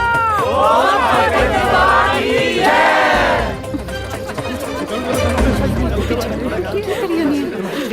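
A crowd shouts a jaikara cheer for Papa ji, loud raised voices in unison ringing out for a few seconds before settling into rumbling crowd chatter and movement.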